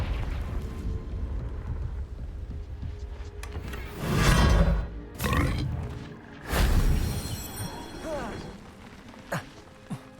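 The Confringo fire curse in Hogwarts Legacy bursts in several roaring, whooshing blasts that swell and fade over a low rumbling game backdrop, with brief sharp hits near the end.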